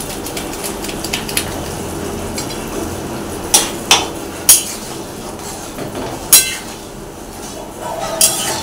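Egg curry with garam masala being stirred in a pot: a soft steady sizzle with several sharp metallic clinks of a spoon against the pot, spaced irregularly, close by, no voices.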